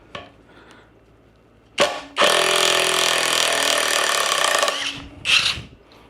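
A Seesii 3-in-1 power tool backs a lag bolt out of wood, giving a loud, steady whirring, rattling drive of about two and a half seconds, framed by shorter knocks and clatter before and after.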